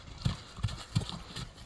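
A light-footed, tall horse walks with clear, evenly spaced hoof clip-clops, four steps in quick succession, close by and fairly soft.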